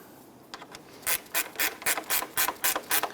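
Ratchet cranking down the top radiator bolts on a 1992-1996 Toyota Camry 2.2L I4, a steady run of about ten sharp, evenly spaced clicking bursts, close and fairly loud with no talk.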